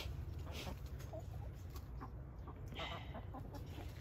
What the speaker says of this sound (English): barred rocks are getting humongous